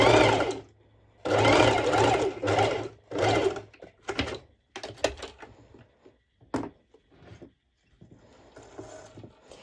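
Sewing machine stitching two layers of fabric together for dance bottoms, running in several loud, close bursts of rapid mechanical whirring separated by pauses, followed by quieter clicks and handling noises.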